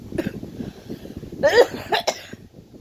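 A few harsh coughs close up from someone ill with throat and chest pain, one short burst then a heavier pair, with quiet breathing between.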